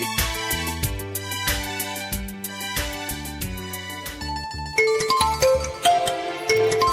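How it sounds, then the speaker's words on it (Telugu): A mobile phone rings for an incoming call with a musical song ringtone, its melody playing continuously and loudly up close, switching to a brighter tune near the end. "అది మా అమ్మ ఫోన్ చేస్తుంది"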